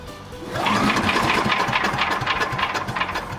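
A cold Troy-Bilt Chipper Vac small engine cranks and sputters as it tries to start, catching into an uneven, knocking run with a rapid pulsing rhythm, loud and close with no talk.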